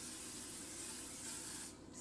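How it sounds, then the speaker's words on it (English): Cooking spray hisses onto a baking pan for rolls in a close, continuous spray of about two seconds. It is fairly faint and stops near the end, with no talking. "So what I'm gonna do is spray the pan"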